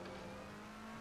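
A race car in Assetto Corsa Competizione drones along at the Catalunya circuit, a steady engine tone with a strong sustained hum, faint and even throughout.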